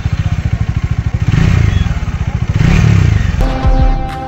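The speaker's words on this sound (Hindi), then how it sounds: "डोमिनोज 400 का एग्जॉस्ट साउंड" Bajaj Dominar 400 motorcycle exhaust heard up close, a loud, rapid thumping pulse that rises in two revs before settling, ending with a brief clunk.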